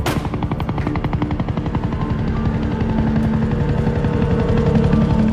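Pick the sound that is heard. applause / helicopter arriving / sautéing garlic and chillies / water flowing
helicopter arriving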